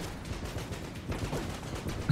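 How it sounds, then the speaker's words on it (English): Rapid, non-stop explosions and gunfire from the video game Enter the Gungeon, dense overlapping bursts and pops forming a constant barrage, moderately loud throughout. "Just non-stop explosions."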